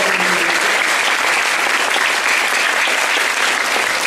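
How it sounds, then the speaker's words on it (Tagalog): Loud, sustained applause fills a graduation ceremony hall at a Valenzuela elementary school, dense clapping from a large crowd continuing steadily throughout with no break. "Isang malakas na palakpak din po para sa mga sumama at sumanay sa ating mula sa ating público"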